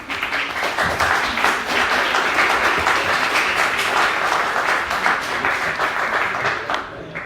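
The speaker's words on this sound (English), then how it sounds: "yes, applause." An audience applauds at a spirituality talk and Q&A session, a steady, moderately loud clatter of many hands lasting the whole stretch.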